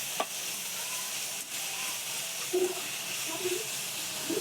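Chopped onions and tomatoes with coriander and mint sautéing in hot oil, a steady sizzling hiss with occasional stirring scrapes, close by and fairly quiet.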